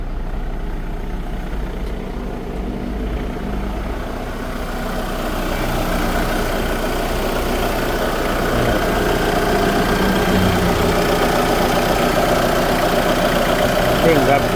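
A 2003 Mitsubishi 4x4 engine runs at a steady, loud idle, with a low continuous rumble that grows slightly fuller partway through.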